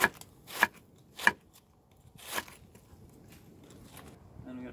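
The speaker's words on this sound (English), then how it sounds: "So you just want to kind of shred your cabbage." A knife shreds cabbage finely for a snoek salad, giving a few sharp, separate cutting strokes with quiet pauses between them and a faint low sound near the end.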